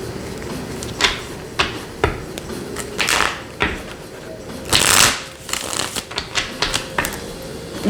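Playing cards are handled and picked from a deck, with a string of crisp, close flicks and riffling snaps arriving in irregular bursts, one fuller shuffle-like rush in the middle.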